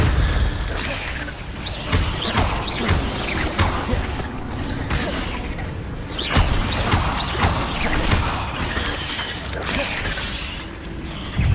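Spell effects in the video game Hogwarts Legacy, a dense, continuous run of whooshes, booms and crackling impacts layered together, loud and busy throughout.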